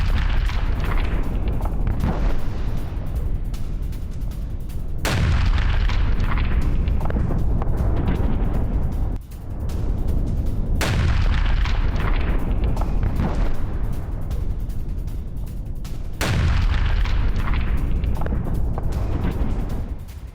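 Heavy bombing blasts strike a water treatment plant in Rafah, with loud, deep booms landing about every five seconds and long rumbling roars filling the gaps between them.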